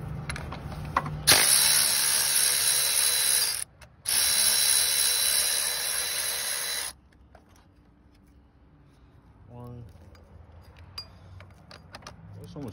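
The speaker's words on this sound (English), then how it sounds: "I'm gonna use our sideways ratchet here to remove those 2" A sideways ratchet loosens 13 mm bolts on the power steering pump of a 2005-08 Grand Prix GXP, giving two long, close, rapid clicking runs separated by a short pause, then quieter shuffling and handling noises.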